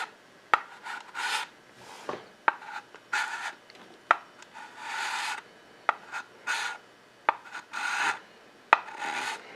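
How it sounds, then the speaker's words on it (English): Slow, repeated rasping strokes of a file across a plastic Tamiya M41 Walker Bulldog tank model part, each stroke a short scratchy burst separated by brief pauses and light clicks, close and steady with no talk. "So we'll continue filing, but that's the way I'm going to take care of it. You just slowly file."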